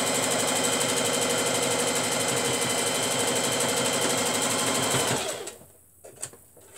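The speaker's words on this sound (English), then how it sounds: "And I love this sewing machine." A sewing machine runs steadily in a fast, even mechanical whir while stitching fabric for a tote bag, close and loud, then stops abruptly near the end, leaving a few faint clicks.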